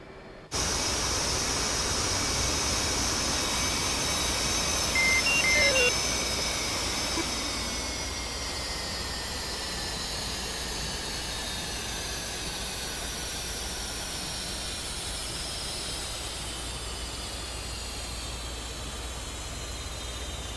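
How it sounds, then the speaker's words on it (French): Loud, steady roar of an F/A-18C Hornet's jet engines with a high whine that slowly drops in pitch as they wind down after carrier landing, in a video game. "Je vais arrêter les moteurs."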